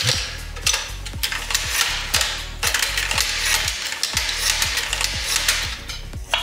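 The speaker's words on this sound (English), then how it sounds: "Run this through the sharpener." A Ninja Foodi NeverDull knife drawn repeatedly through a sharpener, giving a regular series of clicking, ratchet-like strokes about every half second, each with a brief metallic ring, close and clear.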